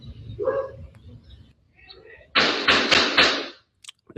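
A dog barks inside a house in a short, moderately loud burst, followed by a run of sharp, broadband knocks or slams that cut off abruptly.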